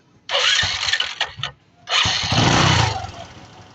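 A Rouser 135 motorcycle engine, freshly top-overhauled with a Boxer 150 cylinder block, starts up with a short burst, cuts out briefly and then restarts and runs, close and moderately loud.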